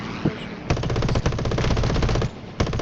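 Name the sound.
machine gun fire from an aircraft in War Thunder video game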